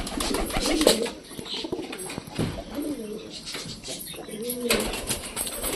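Domestic pigeons coo in low, rolling phrases around a feeding bowl, close by and steady, mixed with rustling movement while a person talks over them.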